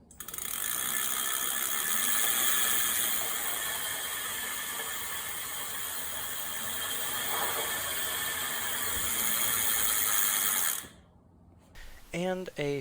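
An e-bike conversion kit motor spins during a throttle test with a steady, loud mechanical whir and fine ratcheting ticks. It cuts off abruptly near the end, followed by a moment of quiet and brief talking.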